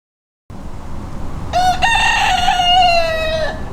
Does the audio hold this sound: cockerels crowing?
yes